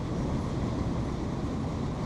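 A freight train in the Run 8 train simulator game, a steady low rumble of rolling cars with a continuous broadband roar and no talking.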